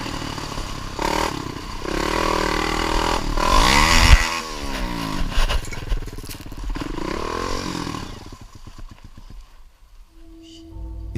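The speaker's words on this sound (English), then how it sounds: "showing himself riding his ATV along a bike trail deep in the forest" An ATV rides along a narrow bike trail deep in a forest, its engine droning steadily and rising to a loud roar midway before falling back, with clattering and scraping over rough ground, fading near the end.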